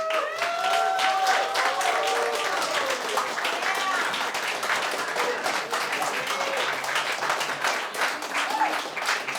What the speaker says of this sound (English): the one you guys are clapping